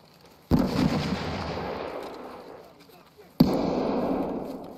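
Two sharp blasts of a grenade going off in Escape from Tarkov's Customs map, each a sudden loud boom that rolls off into a decaying rumble, the second arriving about three seconds after the first.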